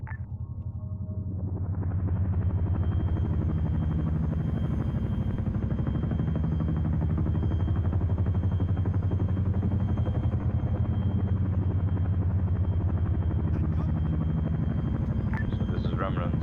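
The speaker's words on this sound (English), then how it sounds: "we only hear the one loud helicopter" A single loud helicopter in a military SCP video game builds up over the first two seconds, then holds a steady, close rotor drone to the end, with a voice talking under it.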